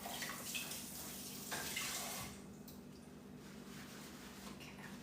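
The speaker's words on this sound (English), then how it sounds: "Let me just rinse the cap and then dry it." Water from a tap runs over the cap of a meal prep container as it is rinsed, a close, steady stream that grows louder for a couple of seconds and then eases to a softer flow.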